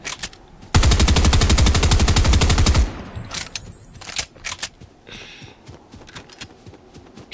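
Rapid automatic gunfire in the Fortnite video game rattles loudly for about two seconds in a dense burst, followed by scattered single shots and quieter in-game sounds with no talking.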